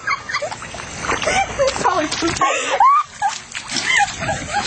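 Footsteps squelch and splash through boggy water thick with mulch, close and messy, with people talking and moving nearby throughout.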